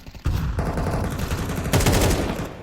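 Rapid gunfire in a professional Counter-Strike match between TheMongolz and Vitality at IEM Cologne 2025, shots fired through smoke in dense crackling bursts that start abruptly and intensify near the end, loud and close.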